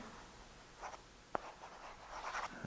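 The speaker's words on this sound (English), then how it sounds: "Say, for instance, you want to write down specs." A stylus scratches across a Boogie Board LCD writing tablet in a few short, faint strokes, with a brief sharp tap partway through, all under a quiet background hiss.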